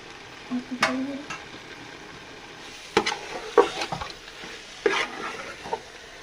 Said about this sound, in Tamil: இந்த ஸ்டேஜில் நம்ம வந்து ஆல்ரெடி பாயில் பண்ணி ரோஸ்ட் பண்ணி வச்சுருக்கேன் மீட் இதில் ஆட் பண்ணிக்கலாம்.